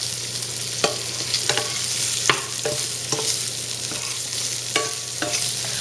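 Already-cooked cinnamon cap mushrooms are turned in a hot pan over a soft frying hiss, with a scattering of crisp utensil scrapes and clicks, close up and without voices.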